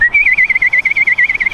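A person whistles a warbling, trilling note to call an eight-week-old puppy, close and loud, held for over a second with a rapid wavering pulse.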